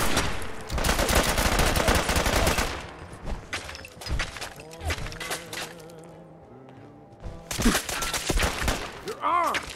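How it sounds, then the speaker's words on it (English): Gunfire from a firefight in the video game Fallout 4: loud bursts of rapid automatic shots and single cracks in clusters, separated by quieter stretches with other game sounds and some voices. "Having such a good firefight"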